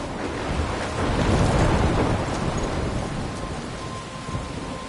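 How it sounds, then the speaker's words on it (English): Thunderstorm in the Life is Strange video game: steady heavy rain and wind with a deep rolling rumble of thunder that swells midway, loud and enveloping, with no voices. "I'm trapped in a storm?"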